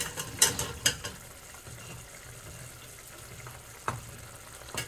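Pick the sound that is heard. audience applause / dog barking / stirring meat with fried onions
stirring meat with fried onions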